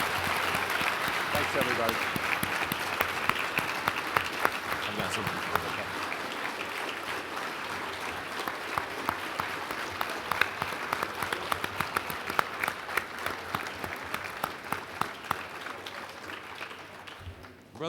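A conference audience gives sustained applause, dense and steady for most of the time, tapering off at the end, while someone says a few words of thanks over it.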